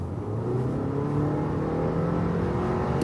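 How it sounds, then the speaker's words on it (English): An Audi Q5 Sportback accelerates from 70 to 100 km/h, its engine a steady, rising drone with road and wind noise inside the cabin, continuous and moderately loud with no talking. "when I'm at 70 kilometers an hour and accelerate to 100,"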